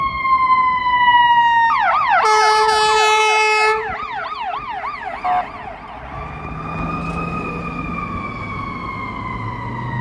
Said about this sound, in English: the sirens went through there, so we got a really nice close-up shot of the ambulance going by